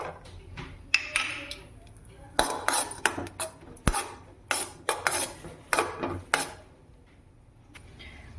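Raisins frying in a pan of ghee for a split-pea payasam, a spoon scraping and clinking against the metal in quick bursts of stirring, close up, with a faint voice talking in the background.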